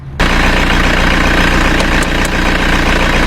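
A car engine starts up and idles steadily, a loud low rumble with a regular rhythmic thrum, a few brief clicks partway through.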